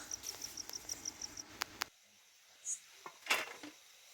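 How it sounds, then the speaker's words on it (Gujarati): Crickets chirp at night in rural farmland, a steady rapid pulsing trill that stops partway, followed by a few isolated chirps and faint rustles, moderately close with no talk. "જો તમરા અવાજ તમે સાંભળ્યો રાતના તમરા બોલે જ વગડામાં"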